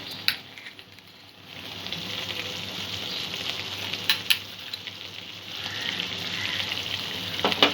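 A spoonful of white and black mustard paste hits a hot pan and fries with a continuous close sizzle, punctuated by a few clicks of a utensil against the pan.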